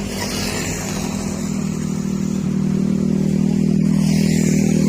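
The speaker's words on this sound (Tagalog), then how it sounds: "Yung kasama ko, hila-hila niya yung motor." A motorcycle is towed along behind another vehicle on a road trip, and a steady mid-pitched engine drone grows slightly louder and holds close for the whole stretch.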